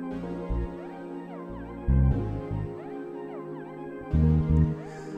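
An external hardware synthesizer sequenced from a Teenage Engineering OP-XY repeats a pulsing bass pattern with bright, sweeping tones above it, playing steadily on its own with no voices.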